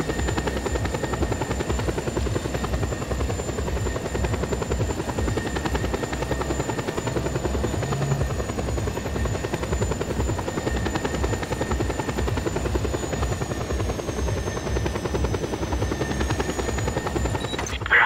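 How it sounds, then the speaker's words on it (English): A military attack helicopter in the video game Just Cause 2 drones steadily with continuous loud rotor chop and a thin engine whine that holds throughout. "I'm just coming in with a military attack helicopter."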